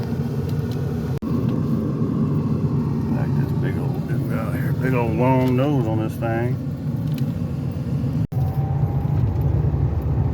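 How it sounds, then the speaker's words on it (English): A roughly 40-year-old classic Pontiac with R12 air conditioning rumbles along on a test drive, its steady low engine and road drone heard from inside the cabin while someone talks over it. "Alright, we're gonna go for a test drive."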